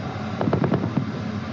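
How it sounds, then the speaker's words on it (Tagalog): A burst of heavy machine gun fire from allied warships during a live-fire exercise at sea, aimed at a floating balloon target about 1,000 yards away, heard as a quick run of five or six rapid bangs. "umalingaw rin sa malawak na West Philippine Sea ang sunod-sunod na putok ng heavy machine guns"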